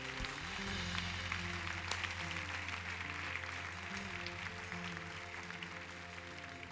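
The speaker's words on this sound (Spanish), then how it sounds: "Podemos darle un fuerte aplauso al Señor." A church congregation applauds over sustained low musical tones, steady clapping that persists at moderate level throughout.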